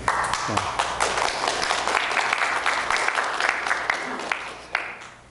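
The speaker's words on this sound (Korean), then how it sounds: "박수 치란 말 안 했는데도 박수를 치네요." A church congregation breaks into warm applause, sharp individual claps standing out from the crowd's steady clapping, with a voice briefly speaking underneath.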